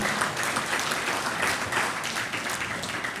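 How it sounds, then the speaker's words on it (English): Conference attendees applaud after a paper presentation, a thick, even wash of many hands clapping at once, sustained and moderately loud throughout without pause. "let's give him a round of applause again"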